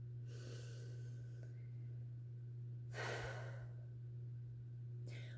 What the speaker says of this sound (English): that tool is really simply this: one big, deep breath